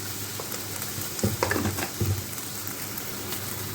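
Tomato and garlic chutney with cumin and salt sizzling on very low heat in a covered pan, a soft continuous crackle with a few brief louder pops and spits, close by and without talk.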